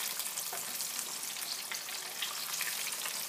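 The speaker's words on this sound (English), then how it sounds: "So we have our fish here and it's frying, starting to float." Beer battered fish fries in hot oil, giving a soft, steady crackling sizzle that stays close and fairly quiet throughout.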